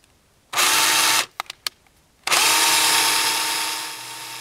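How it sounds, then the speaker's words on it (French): A cordless power drill set to drill mode bores a hole: a loud steady whir for under a second, a few brief blips, then a longer sustained drilling run that gradually eases off. "le perçage va s'effectuer sans difficulté"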